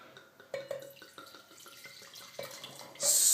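Red wine poured from a freshly uncorked bottle into a glass, a faint glugging trickle with small knocks and clinks, close and quiet before a louder rush of liquid at the end.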